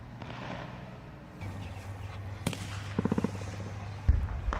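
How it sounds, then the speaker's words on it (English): Sporadic distant gunfire and shelling around an advancing Israeli infantry squad, scattered muffled pops and thuds, including a short cluster of rapid cracks and a heavier thump near the end, over low rumbling background noise. "We hear sporadic gunfire and shelling occurring in the distance as this Israeli squad advances forward."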